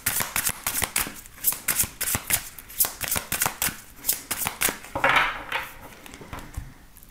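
A deck of tarot cards is shuffled by hand, with a rapid rhythmic run of papery riffles and taps heard up close, then a brief louder swish as the deck is cut.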